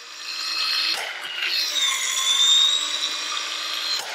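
A Milwaukee ProPex expansion tool with auto-rotating head works 2 inch PEX tubing, a steady high motor whine straining a little as it goes, close and continuous with a few brief clicks, no talking.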